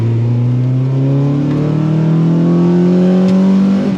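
A Honda VTEC engine revving hard under acceleration, its loud, close engine note climbing steadily in pitch for the full four seconds, with no voices.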